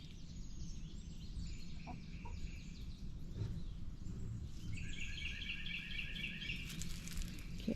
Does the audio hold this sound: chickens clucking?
yes